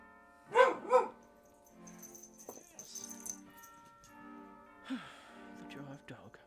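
A small brown dog barks twice close up, sharp and loud, then gives a few softer grumbles and whines. Quiet indoor noise and rustling follow.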